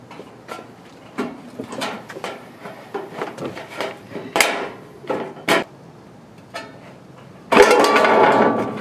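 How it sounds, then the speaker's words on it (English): Tin snips cut through an aluminum gutter in a series of sharp metallic clips and crunches, irregular and close, ending with a longer harsh scraping rasp of sheet metal. "And we're just going to cut through the gutter."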